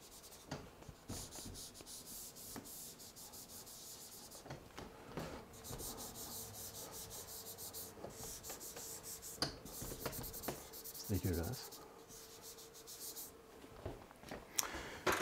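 Writing being erased from a board, a series of close scratchy rubbing strokes in short bursts, with faint movement noises between them.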